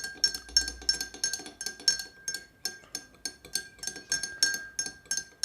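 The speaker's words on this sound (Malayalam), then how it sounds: "നമുക്കിനി നമ്മൾ സ്പൂൺ വെച്ച് നന്നായിട്ടൊന്ന് മിക്സ് ചെയ്യണം" Metal spoon stirring salt solution in a glass, a quick steady series of light clinks against the glass, close and fairly quiet, with no talk.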